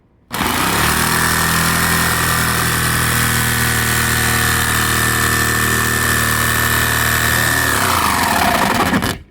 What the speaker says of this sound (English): I'll go to town with the drill, or with the jigsaw. It's using the medium metal blade.